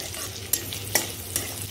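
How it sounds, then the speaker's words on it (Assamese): Ingredients fry in hot oil in a wok, giving a steady sizzle broken by three sharp scraping stirs of a spatula spaced about half a second apart. "আগতে ৰঙচুৱাকৈ ভাজি ল'ম"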